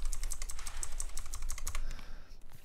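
Rapid clattery typing on a newly bought computer keyboard, a dense run of crisp key clicks at close range that thins out toward the end, with no talking.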